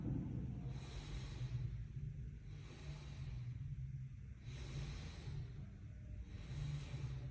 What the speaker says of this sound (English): take some nice big diaphragmatic breaths while we're in any stretch